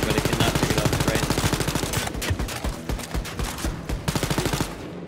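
Rapid automatic gunfire in the shooter game Wolfenstein: Youngblood, loud close bursts of shots in a fast steady rhythm with brief pauses, continuing almost without break.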